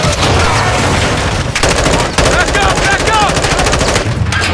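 Rapid automatic gunfire rattles in a loud, continuous stream during a firefight in the video game Call of Duty: Modern Warfare II, with dense overlapping bursts and shouted voices faintly mixed in.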